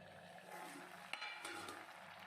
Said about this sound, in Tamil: தக்காளி இப்போது நல்லா கொதிக்க ஆரம்பிச்சிருச்சு.